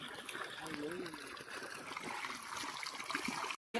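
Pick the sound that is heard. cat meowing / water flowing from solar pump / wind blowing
water flowing from solar pump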